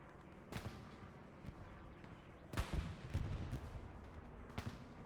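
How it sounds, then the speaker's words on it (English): Distant artillery in Hell Let Loose on the Hurtgen map: faint, scattered booms and impacts roll through a low battlefield rumble, with a heavier cluster of blasts midway. "Artillery is doing well there, dude. It's hitting directly on top of that OP."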